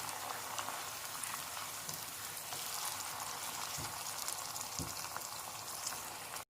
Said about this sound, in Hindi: मसाला भुन रहा है